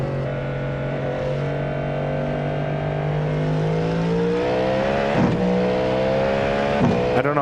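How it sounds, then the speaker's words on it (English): The V8 engine of a Cadillac GTP prototype in the iRacing sim revs up steadily, its throaty pitch climbing through the gears with brief shifts near the end, loud and continuous. "V8 kicks in."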